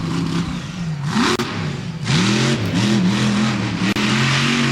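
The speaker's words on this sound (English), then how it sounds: "heading out into the racing lane and pulling a spectacular slap wheelie off of the racing lanes" A monster truck's engine roars and revs hard through a slap wheelie in an arena racing lane, its pitch swooping up and down in loud surges with brief dips between bursts.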